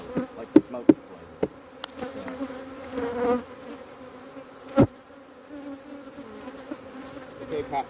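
Honeybees buzz around an open hive being tended, a steady low drone with a few sharp clicks and bumps from handling, and no one speaking.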